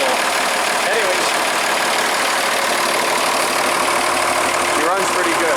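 An old International Farmall 806 tractor engine idles close by in a steady, loud mechanical drone with a dense, even hum and faint rhythmic knock, running continuously while someone talks over it.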